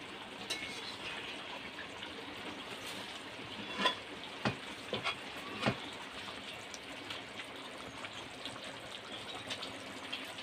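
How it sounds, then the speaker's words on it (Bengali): Curry in a pan with a little mustard oil, gently stirred: a soft, low sizzle with a few distinct clinks and scrapes of the spoon around the middle, fairly quiet and without talk. "আর অল্প একটু সরষের তেল হালকা করে একটু নেড়ে দেবো"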